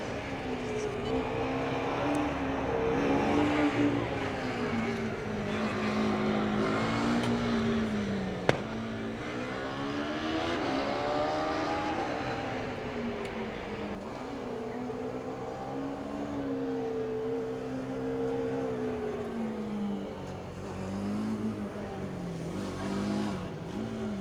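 A Formula Student race car runs an autocross course at Formula Student Germany 2019, its engine droning and shifting pitch steadily throughout as it accelerates and brakes, close and loud with no talk over it.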